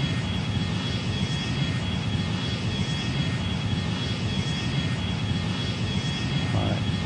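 Airplane engine in the flight game Extreme Landings, a steady, even roar held at one level throughout with no breaks.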